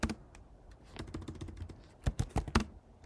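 Keys clatter on a computer keyboard while someone types code, in irregular bursts of close, crisp clicks with short pauses between them, ending in a quick flurry of strokes.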